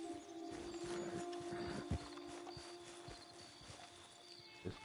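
A horse in the video game Red Dead Redemption 2 clip-clops in a steady walking rhythm, its hoofbeats close and moderately loud over a low ambient hum, with a few sharper thuds near the end.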